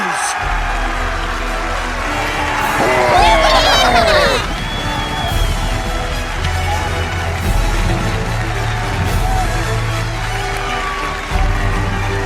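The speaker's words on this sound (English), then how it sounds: "That, my friends, is the sound of applause!" A cartoon crowd erupts in cheering and applause, with a swell of whoops and excited yelling around three to four seconds, then a steady babble of crowd noise alongside a voice and music.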